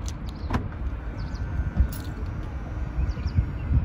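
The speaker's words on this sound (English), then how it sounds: "please lock the door like you would do when you park the vehicle" A brand new car's door being locked, heard as a brief mechanical click and clunk against steady outdoor background noise, with faint bird chirps around it.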